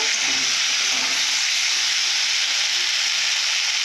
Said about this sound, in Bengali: এইভাবে ভালো করে কষে নেব